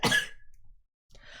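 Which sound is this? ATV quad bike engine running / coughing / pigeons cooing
coughing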